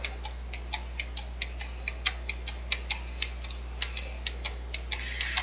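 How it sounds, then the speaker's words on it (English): A controller clicks quickly and steadily while the brakes of a class B truck are fanned during an Oklahoma CDL pretrip inspection. The faint, evenly spaced ticks run over a low steady hum, with no voices. "What you're hearing is me clicking the controller."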